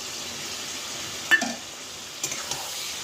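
Spices frying in a pan give a faint, steady sizzle, broken by a few quick scrapes and clinks of stirring.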